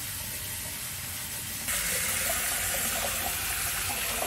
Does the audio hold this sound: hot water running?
yes